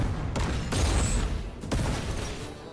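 A bomb blast goes off in a Hindi-dubbed action film, heard as heavy booming bursts with a sharp crackling rumble. Several loud impacts arrive in quick succession, then the noise settles into a lingering roar, with no voices.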